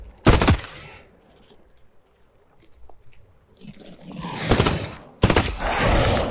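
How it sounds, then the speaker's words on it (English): Heavy gunfire from another player in The Cycle Frontier: sharp, loud bursts open the clip, then after a quieter stretch more dense volleys of shots crash in near the end. "Whoa, that's a lot of fire from another guy"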